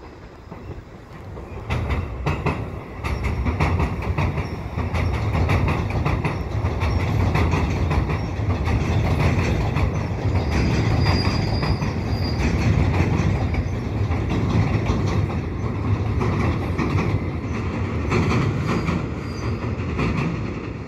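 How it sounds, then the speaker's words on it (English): A northbound EXO electric multiple-unit commuter train rumbles steadily across the Des Prairies bridge at Pierrefonds, a continuous loud roll of wheels and rail clatter with a faint squeal, heard alone with no talk. "I got an AMT train crossing the bridge at Des Prairie."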